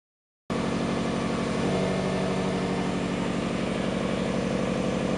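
A car engine fitted with new wheel studs fires up on its first start, cutting in abruptly from silence and settling into a loud, steady idle with an even, pulsing throb.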